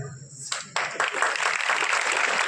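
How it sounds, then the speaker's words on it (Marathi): Audience at a Shri Ram Katha gathering at a Nagoba temple breaking into applause, the clapping swelling quickly from a few hands into a dense, sustained ovation close by. "टाळ्या वाजवा"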